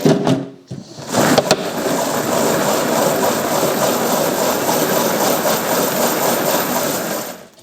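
A rotary media separator spins brass cases and tumbling media in a steady, continuous rattling churn after a few brief clanks, close and fairly loud.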